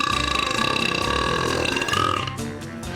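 A very loud, long human burp from the world record holder for the loudest burp, rumbling for over two seconds before trailing off.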